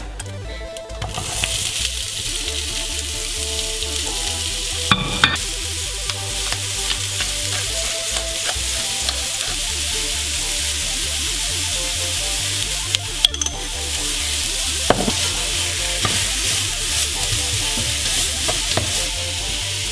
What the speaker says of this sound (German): als nächstes werden die Zwiebeln angebraten mit dem Knoblauch